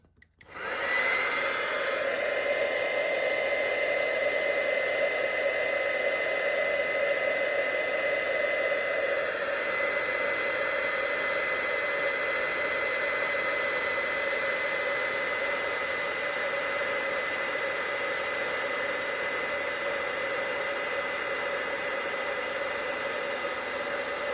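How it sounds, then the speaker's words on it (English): A heat tool switches on and blows hot air onto card stock, a continuous loud whirring hum with a steady high-pitched whine that holds unbroken for over twenty seconds. "I'm just going to take my heat tool and heat this up."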